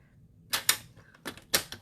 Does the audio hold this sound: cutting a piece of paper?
yes